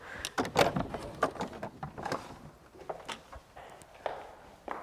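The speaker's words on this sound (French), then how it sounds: "nous allons passer par une petite porte secrète que je vais vous faire découvrir" A small secret door in a French château is opened with a series of close wooden knocks, scrapes and clatters. Soft footstep-like thuds scatter through a quiet room.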